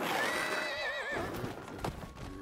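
A horse in the Lego Lord of the Rings video game gives a loud, wavering whinny, followed by softer hoof clip-clops and rustling as it fades.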